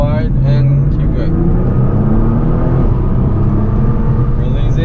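A Nissan GT-R engine roaring at full throttle on a race circuit, a loud continuous drone heard from the cabin while an instructor speaks over it.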